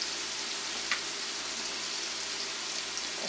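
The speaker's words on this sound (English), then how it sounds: "I'm adding the onion and tomato to the same pan with the leftover oil with the bacon fat" Onion and tomato fry in leftover oil and bacon fat for Jamaican cabbage and codfish, giving a soft, steady sizzle like light rain with no voices.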